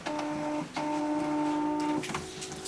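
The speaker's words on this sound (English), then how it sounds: "Once she prints out the graphic onto a special paper, which she's going to do now, she's obviously just clicked the button there." A normal home printer printing a graphic onto special sublimation paper, giving a steady mechanical whir with a brief dip partway before it resumes and then stops near the end.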